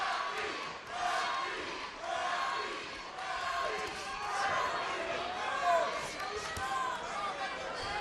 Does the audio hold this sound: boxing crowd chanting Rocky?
yes